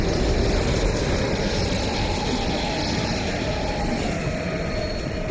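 A train in the Call of Duty: Cold War video game rumbles in a dense, continuous roar of rolling wheels and carriages, steady and loud throughout with no voices.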